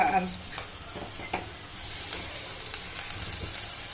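Ginger-garlic paste fries in hot oil in a pot for a goat-marrow curry, giving a soft, continuous sizzle with a few spoon scrapes and light metal clinks, fairly quiet and close.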